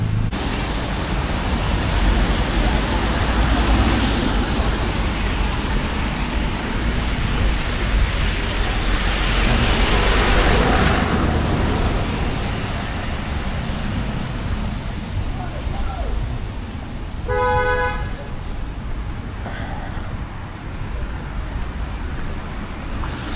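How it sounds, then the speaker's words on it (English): Street traffic at a London bus station on a wet day sounds as a loud, continuous roar of passing vehicles and wind buffeting the microphone, with a brief beeping tone near the end. "So we're at the bus station."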